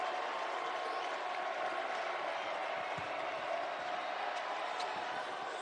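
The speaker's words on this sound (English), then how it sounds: "Here comes that crowd again." College basketball arena crowd roaring and cheering after free throws, a steady dense wall of noise that is moderately distant and continuous.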